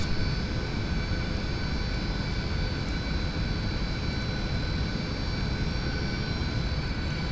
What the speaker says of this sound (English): release the parking brake and we'll begin our taxi